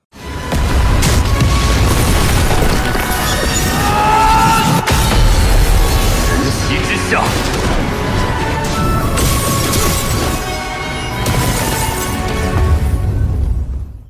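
A sword exploding into power in the animated series Soul Land gives a loud, sustained roar of crashing, booming energy that rumbles without a break for over ten seconds, dense and overwhelming.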